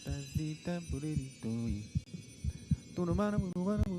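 A human heartbeat, soft throbbing pulses set beneath a humming, tonal layer that rises and falls in short phrases, fairly quiet and without clear speech.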